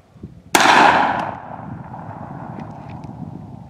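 A blank cartridge fires a golf ball with one sharp, loud bang that rings out and decays over about a second, followed by faint outdoor background.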